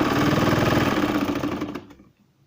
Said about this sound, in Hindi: हम इसको सिलाई करना शुरू करेंगे। कंटिन्यू इसको करते जाएंगे पूरे पीस को।